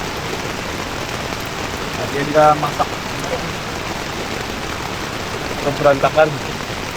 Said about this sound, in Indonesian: Guys, cuaca hujan lumayan lebat.